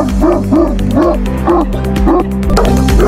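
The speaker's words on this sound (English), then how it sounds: "Powerful and loudest bark? Let's hear it first" Loud, close barking from Kangal and Fila Brasileiro guard dogs, a rapid rhythmic series of about eight deep, booming barks with yelping edges, heard alone.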